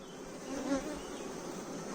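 Bees buzz softly at a hive while gathering nectar, a faint, continuous hum with a brief swell near the start.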